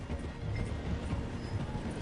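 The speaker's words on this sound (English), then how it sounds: "The train is slowing down to go through the station." A train in the Red Dead Redemption 2 video game slowing as it passes through a station, heard as a steady, dense low rumble of rolling wheels and carriages with faint clatter throughout.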